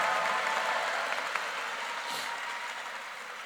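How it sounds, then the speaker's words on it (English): Sustained applause from a large audience at a high school commencement for the program artist, a dense even roar of clapping with a few sharper claps, gradually easing slightly. "So I'd like us to get a big round of applause for our artist, who was Miss Alicia Luis Rodriguez."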